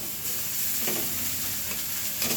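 Sliced snake gourd stir-fries in a pan, giving a soft, continuous sizzle with a few brief scraping stirs; fairly quiet and without talk.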